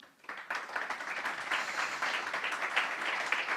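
An audience at a Spanish-language NGO event on sport as a tool for integration bursts into steady applause welcoming guests onto the stage, building after a brief quiet start and continuing evenly.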